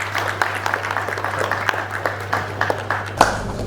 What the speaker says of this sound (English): give the entire Ujjivan team and Deepak a round of applause.